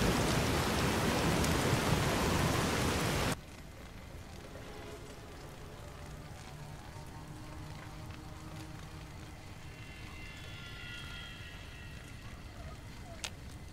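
Rain falling in the video game Fallout New Vegas, a loud steady downpour hiss that cuts off abruptly after a few seconds, leaving a quieter ambient bed with faint tonal sounds.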